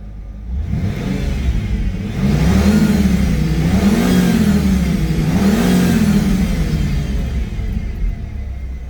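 A 1995 Ford Mustang GT with a 5.0 V8 runs nearby, a steady rumbling idle rising into a couple of smooth revs and settling back, loud and alone without talk.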